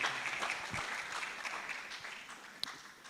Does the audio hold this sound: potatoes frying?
no